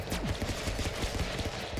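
Rapid, dense volleys of gunfire from the Stick Fight video game, with crackling shots packed closely together in a steady stream that runs loud through the whole stretch.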